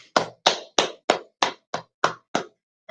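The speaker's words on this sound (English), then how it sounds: "Alright, clap it up." Eight sharp, evenly spaced hand claps ring out close and alone in a slow, steady rhythm, each crack dying quickly into silence.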